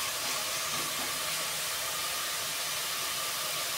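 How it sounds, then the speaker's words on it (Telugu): Garlic-onion paste fries in a hot pan with curry leaves, giving a loud, steady, dense sizzle that holds without a break the whole time, with nothing else heard. "వెల్లుల్లి, ఉల్లి ముద్దను వేసేసుకొని చక్కగా వేయించేసుకోవాలి"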